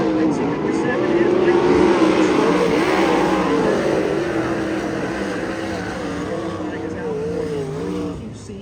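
360 sprint cars race past on the dirt oval at Kings Speedway in Hanford, a loud, near engine roar that swells and then slowly fades as the pack moves off.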